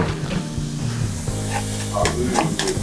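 Chillies hiss and crackle in a hot pan while being stirred for prawn chow mein, a short close sizzle with scraping stir sounds over faint background music.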